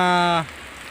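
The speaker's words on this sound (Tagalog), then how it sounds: "Kahit malakas yung ulan, no?" Heavy rain falls outdoors: a brief loud tonal burst gives way to a steady, soft wash of rainfall.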